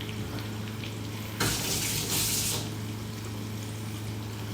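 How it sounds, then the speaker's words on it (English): A splash of water poured into spice paste with turmeric and chili powder frying in a pan causes a sudden loud hissing sizzle that swells for about a second, then settles back to a quieter steady fry. "it may need a splash of water just to help us all come along"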